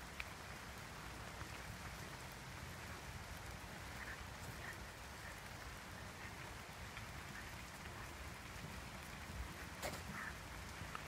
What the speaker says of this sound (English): The rain's not so bad, and if you're sort of in the woods here, it's quite nice because you can hear it falling through the canopies